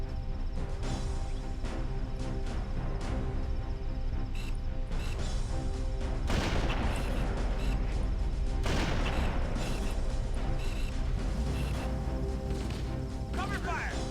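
Gunfire and explosions in the Halo Reach shooter, with loud bursts and crashing impacts over a continuous mechanical background, and a voice talking throughout.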